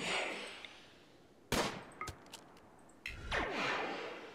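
Gunshots in the video game RimWorld, a few sharp loud reports with short echoing tails over a quiet windy backdrop, spaced irregularly across a few seconds.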